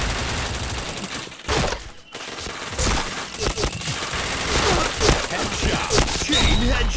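Rapid bursts of gunfire in a shooting video game, dense and loud crackling volleys with sharp transients that keep building toward the end, with faint voices mixed underneath.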